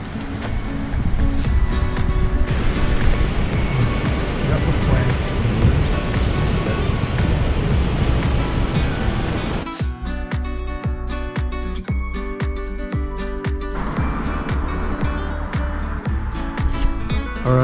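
A river at a campground in Sequoia and Kings Canyon National Parks gives a steady, broad rush of flowing water that continues without a break. Partway through, a series of sharp clicks and knocks sounds over the flow.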